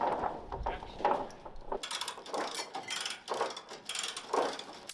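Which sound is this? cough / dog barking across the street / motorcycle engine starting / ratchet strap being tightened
ratchet strap being tightened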